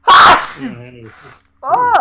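A loud, close sneeze bursts out at the start of a podcast recording, followed by someone talking and then a second sharp, sneeze-like exclamation near the end.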